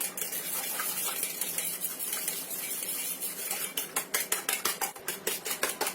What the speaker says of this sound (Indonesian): Ini kita kocok lepas telurnya, biar putih dan kuningnya itu tercampur rata.